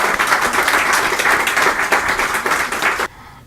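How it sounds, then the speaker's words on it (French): A French audience breaks into loud, steady applause at an entrepreneurship panel, dense clapping filling the room for about three seconds before cutting off abruptly. "Je pense qu'on peut être fiers de toi et on peut applaudir."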